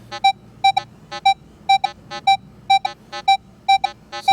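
A Minelab X-Terra Elite metal detector sweeps over an iron nail, giving repeated short electronic beeps, often in quick pairs, at a steady rhythm, loud and clear against a quiet background.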